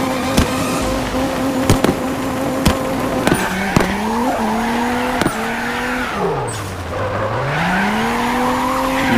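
A car drifts at high speed in CarX Drift Racing 2, its engine note rising and falling sharply with tire squeal and skidding, loud and continuous with a few sharp clicks over it and no talking.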